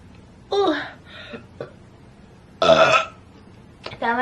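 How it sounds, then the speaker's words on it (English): A woman dressed up lets out a few loud, wet burps in bursts, one with a little hiccup in it, separated by short pauses and soft vocal sounds. "Feels so good to burp even though I'm all dressed up and it's not ladylike."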